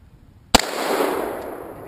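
A single sharp, loud gunshot from a .500 Magnum revolver fired one-handed outdoors, with a brief initial crack followed by a long rumbling decay.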